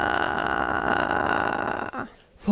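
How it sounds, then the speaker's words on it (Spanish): A singer gives a close, low, creaky vocal fry demonstration lasting about two seconds, followed by a short pause and a brief vocal sound at the end. "El vocal fry."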